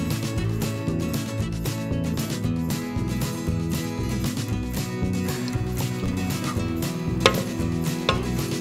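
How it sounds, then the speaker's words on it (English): Pumpkin being mixed into wet pumpkin bread ingredients: a steady, loud mechanical whirring drone with faint scraping clicks near the end, and no talking. "So we're going to mix in our pumpkin."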